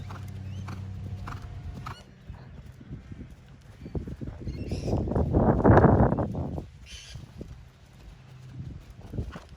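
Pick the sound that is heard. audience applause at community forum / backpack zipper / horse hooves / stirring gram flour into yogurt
horse hooves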